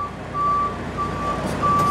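Rollback tow truck at a CARS Tour race at Orange County Speedway sounding its reversing alarm: steady high beeps in long and short pulses over a low idling engine rumble, fairly close.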